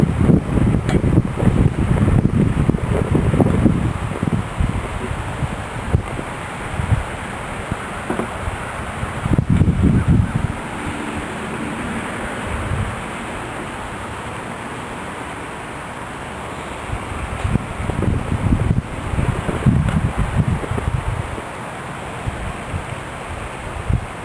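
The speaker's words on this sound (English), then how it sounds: "we got 20 km/h wind" Gusty outdoor wind of about 20 km/h on a cold November day, buffeting the microphone in loud bursts that ease off and return.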